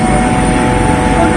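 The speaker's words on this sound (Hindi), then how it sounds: "हेलीकॉप्टर राइड कराई जा रही है पहली बार" Inside or right beside a helicopter on a ride for top students in Chhattisgarh, a loud, steady, close engine and rotor roar fills the whole moment without a break.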